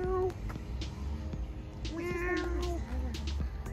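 A nursing mother cat with her kittens gives several close, plaintive meows that rise and fall in pitch, separated by short pauses, over a quiet indoor background.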